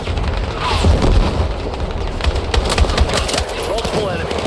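Dense automatic gunfire and booming explosions in the first-person shooter Battlefield 6 during a combat mission, loud and continuous with rapid bursts and heavy low-end impacts throughout, with voices calling out under the battle noise.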